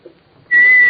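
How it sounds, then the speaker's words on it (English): After a brief soft rustle, a single clear, steady high-pitched whistle from little carved figures starts abruptly and holds loudly to the end. "These little carved figures can whistle."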